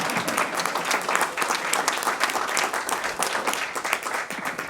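Steady, dense applause from a crowd at a board of education meeting, many hands clapping continuously at a lively, even level throughout.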